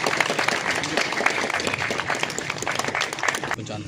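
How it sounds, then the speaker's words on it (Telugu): A public audience at a meeting about 123 CCTV cameras installed in Korutla town claps steadily and loudly for several seconds, a dense patter that stops abruptly near the end, with voices mixed into it. "గట్టిగా చప్పట్లతో"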